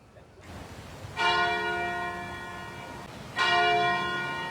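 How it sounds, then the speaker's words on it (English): Two deep, resonant church bell tolls from St. Luke's Episcopal Church in Atlanta ring out a couple of seconds apart, each humming and slowly decaying. "The bells of St. Luke's Episcopal Church in Atlanta ringing 80 times"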